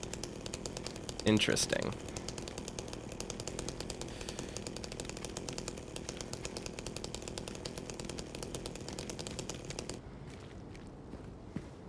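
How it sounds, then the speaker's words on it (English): A chainsaw idles in Silent Hill 2 Remake with a steady buzzing drone that runs for about ten seconds, louder during a brief burst near the start, then cuts out. A voice speaks briefly over it. "the idle noise from the chainsaw"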